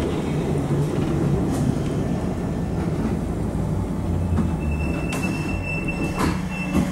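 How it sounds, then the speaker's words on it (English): London Underground Bakerloo Line train running between stations, a steady loud rumble of wheels on track with brief high squeals rising above it, heard from inside the carriage with no talking. "This is the Bakerloo Line train to Elephant and Castle."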